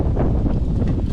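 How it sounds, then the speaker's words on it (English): Steady wind buffets the microphone with a constant low rumble and rustle, loud and close throughout, with no voices. "You can hear it's quite a windy day over there."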